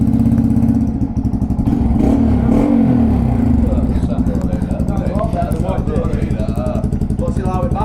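Honda Monkey motorcycle idling and running through a cheap aftermarket AliExpress exhaust, a steady, loud, throbbing low engine note that stays close, with people talking over it.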